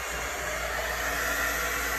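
A heat tool blows a steady, close whooshing rush of hot air to melt embossing powder on a handmade card, a constant unbroken hiss with no speech.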